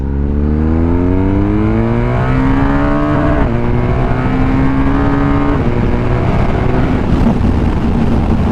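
A motorbike engine revs hard and loud, its pitch climbing steadily through the gears toward the red line in several rising sweeps, with brief dips at each shift and constant rushing wind noise.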